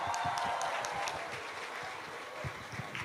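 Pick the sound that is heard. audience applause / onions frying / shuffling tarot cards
audience applause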